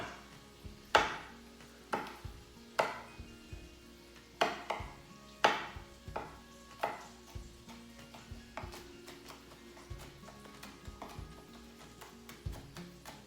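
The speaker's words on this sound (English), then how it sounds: "I'm just going to cut that up, chop that up really small too" A knife chops slivers of jalapeno on a cutting board for breakfast tacos, making steady, crisp taps roughly once a second, close and fairly quiet, with no talk.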